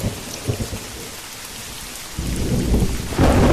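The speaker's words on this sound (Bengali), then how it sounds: "ঝম করে বৃষ্টি পড়ছে, আকাশ কালো, বিদ্যুৎ মাঝে মাঝে চমকাচ্ছে।" Heavy cartoon-style thunderstorm: steady roaring rain with rolling thunder that swells louder near the end, close and dense with no voices.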